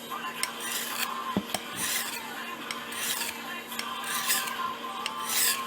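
A tanto knife blade is pushed in repeated scraping strokes across a simple sharpening stone, each stroke giving a close, gritty rasp with a few sharper clicks between strokes.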